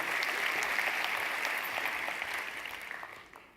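Applause from an audience at a talk or workshop on innovation, a steady dense wash of clapping that holds for a few seconds and then slowly fades.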